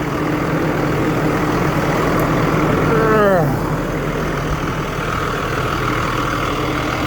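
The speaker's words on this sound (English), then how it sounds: "I'm gonna just go and lift the hood so you can listen to the motor a little better" A Ford F750XL service truck with a HIAB folding crane idles steadily with its hood open, a constant low engine rumble heard close up, while someone talks briefly over it.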